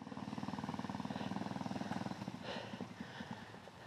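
An off-road go-kart engine runs with a steady, rapid putter for about two seconds, then sputters unevenly and dies down, heard nearby and alone.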